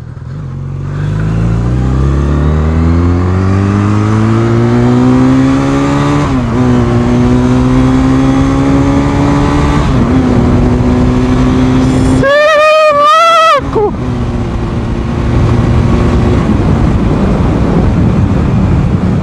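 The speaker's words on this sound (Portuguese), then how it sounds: "Sentiu o carburador do Artigas?" A carbureted car engine revs hard for about 19 seconds, its pitch climbing steadily. There is a short break with a sharp, warbling higher tone near the end, then the engine drones on loudly. No one speaks.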